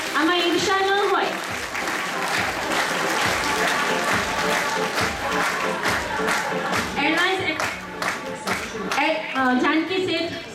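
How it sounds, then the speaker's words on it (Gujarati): Sustained hand clapping from an audience at a college annual function prize distribution in Modasa, loud and continuous with sharp individual claps standing out, while a voice speaks over it at times. "તાળીઓનો ગડગડાટ કેમ બંધ થઈ જાય છે?"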